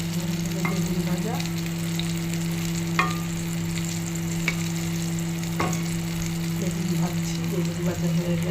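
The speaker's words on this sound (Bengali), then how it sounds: "ভাজছি, বেগুন ভাজা হয়ে গেল।" Begun bhaja, slices of eggplant, fry in hot oil in a pan with an even, continuous sizzle, broken by a few sharp clicks and spatula scrapes close by.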